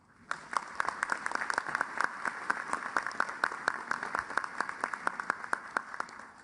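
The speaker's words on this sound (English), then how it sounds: "Let's give them an applause." Audience applause at an international conference on Africa in Tokyo, a steady burst of many hands clapping that starts abruptly and holds for several seconds, fairly close and dense, with no talk over it.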